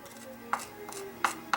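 Garlic pressed in a garlic press in a home kitchen while making chicken lumpia, three short sharp crunching squeezes spaced apart, close and fairly quiet over a soft room hum.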